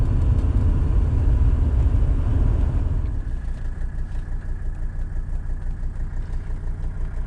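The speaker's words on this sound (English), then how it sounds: "listen how quiet this thing is, especially for a car that's 40 years old." An old Mercedes 300D diesel car engine, about 40 years old, runs with a low, steady rumble, revving louder at first and then settling into a quieter, even idle-like hum.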